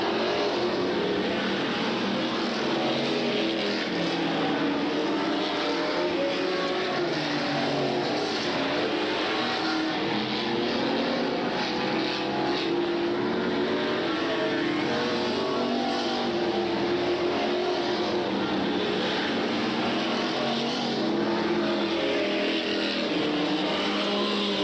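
Super stock race cars roar around an oval track at a 1993 race at Freedom, engines droning and surging continuously as the pack passes, loud and steady throughout with no talk.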